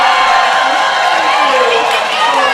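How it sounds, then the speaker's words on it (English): A roller derby team rises to its feet and cheers at a World Cup bout, a dense, loud wash of crowd shouts and whoops that runs throughout, with a commentator's voice over it. "as the team is on their feet and cheering"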